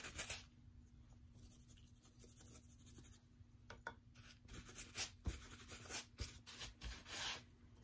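Black pigment is rubbed flat into Venetian plaster, producing a continuous dry rasping, scrubbing sound of varying strokes, close and soft under a faint steady hum.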